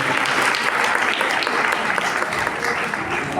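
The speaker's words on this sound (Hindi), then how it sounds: "जोरदार तालियां बजाएं" Loud, sustained applause from an audience at a Catholic Bible Commission gathering in Karachi, a dense steady wash of clapping filling the whole stretch without letup.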